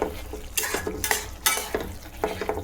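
Ash gourd shukto being stirred in a pan: repeated scraping strokes of a spoon against the metal over a soft simmering sizzle, close and rhythmic, with nobody speaking.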